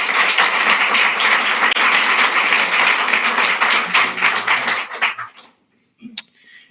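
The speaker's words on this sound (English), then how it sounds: "Let's give her another round of applause" An audience applauds after a speech with dense, even clapping that holds steady for about five seconds, then thins out and fades to near silence with a last faint clap.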